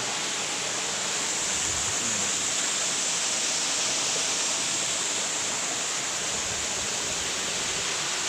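Ambon Falls in Laiya, Lobo, Batangas pours in a steady, dense roar of falling water, continuous and close with no pauses or voices.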